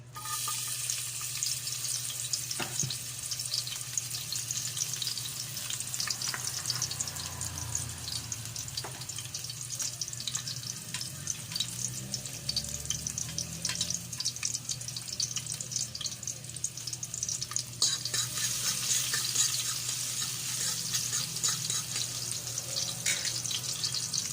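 Garlic sautéing in reused frying oil in a pan gives a steady, close hiss and crackle that runs the whole time, with a low hum underneath and nobody speaking.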